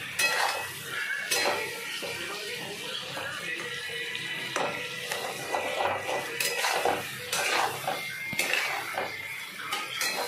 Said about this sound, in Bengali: এবং এটাকে পুরোপুরি ভাজতে দেব